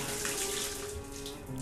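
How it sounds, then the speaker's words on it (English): Water poured out in the video game Homesick, a steady running, splashing stream like a tap filling a basin, continuous and fairly close with no talk over it. "I'll pour the water here while I'm here"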